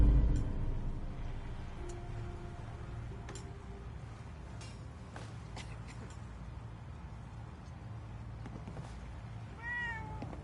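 A cat in the game Fallout 4, Far Harbor meows faintly over a quiet ambient background, with scattered soft clicks and a brief, clearer meow near the end.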